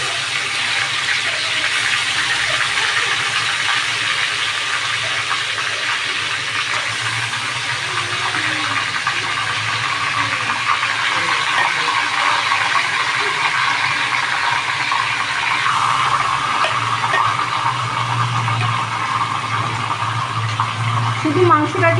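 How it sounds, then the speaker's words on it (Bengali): Chicken pieces for a rezala fry in hot oil with a loud, steady, dense hiss that runs unbroken throughout and is heard up close. "তেলের মধ্যে ভাজতে দিলাম"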